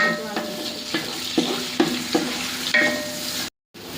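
Onions sautéing with a little salt in a pan sizzle steadily, with a spoon scraping and tapping in a loose rhythm, close and clear, with no voices.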